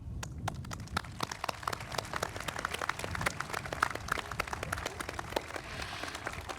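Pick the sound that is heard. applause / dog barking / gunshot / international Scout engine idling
applause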